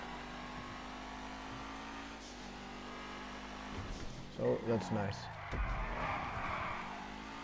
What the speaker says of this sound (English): the engine sound is better